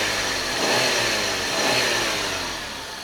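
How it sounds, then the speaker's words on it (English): A 1995 Toyota Supra RZ with a twin-turbo 2JZ engine and 250,000 km on it runs steadily, a close, continuous mid-pitched engine drone that swells slightly mid-way and eases off at the end, with no voices. "Engine running condition. It looks like it's fine."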